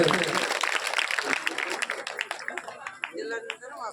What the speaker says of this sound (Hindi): सभी आनंद नगर के भक्तों के लिए जोरदार तालियां